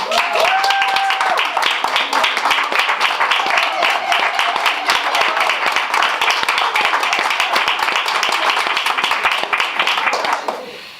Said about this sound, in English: I want you to give a round of applause for Darlene Blackburn.